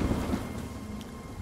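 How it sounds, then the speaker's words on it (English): Steady, muffled rain patters on a built shelter with a porch in the video game Nightingale, a soft, constant wash of noise with no voices. "I love how much it blocks out the sound of rain"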